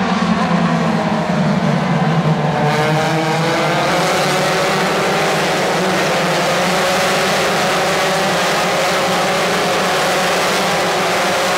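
IndyCar race cars roll past on a caution lap at Mid-Ohio, their engines droning loud and steady, with a shifting pitch as the cars pass close by the trackside spectator.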